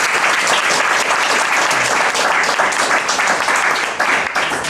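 Loud, dense audience applause fills a lecture hall after a masterclass talk, many hands clapping steadily and close without a break.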